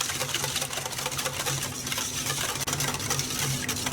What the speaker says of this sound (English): just using a whisk, we're going to give that a quick mix